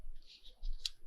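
Scissors snip through a sheet of 12x12 paper, giving a brief run of soft crisp cuts close by, ending in one sharper snap, with no talking.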